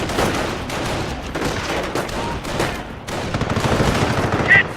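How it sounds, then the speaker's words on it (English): Rifle squad gunfire in the Company of Heroes video game, a dense, continuous clatter of rifle and machine-gun shots that runs through the whole stretch with no pauses and swells louder toward the end. "Rifle squad is being engaged!"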